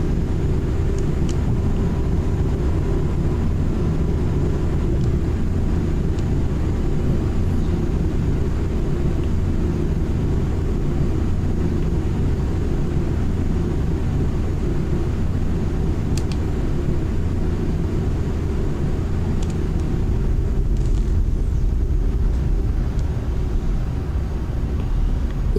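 An aircraft in Flight Simulator X touches down roughly on a mountain runway near Mt Everest, a loud continuous engine and rolling rumble dominating throughout, with faint clunks and no voices.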